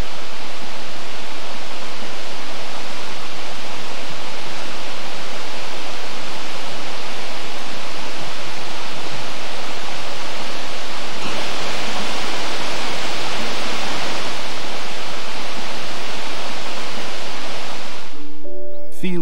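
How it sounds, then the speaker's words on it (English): Loud, continuous rushing water, a dense broadband roar of muddy floodwater pouring steadily down a normally dry desert wash, with a brief clatter right at the end. "normally dry washes overflow, carrying muddy water downstream."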